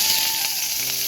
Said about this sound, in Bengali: এখানে এখন আমি ভেজে নেব পুঁই শাকের পাতা আর কি